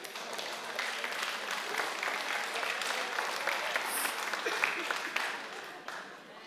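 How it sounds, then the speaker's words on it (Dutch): Audience at a care home applauds a performer with steady, dense clapping that holds fairly evenly for several seconds before easing slightly at the end. "Dus daarom een extra applaus"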